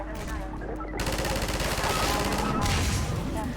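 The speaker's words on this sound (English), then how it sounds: "Which is a pretty lame turret gun because it's really hard to control it." A mounted turret gun fires in the video game Half-Life 2, unleashing rapid, continuous bursts of automatic gunfire that rattle on loudly for several seconds.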